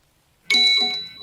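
A single bright ding rings out after a moment of silence, clear and close, its tone lingering and slowly fading.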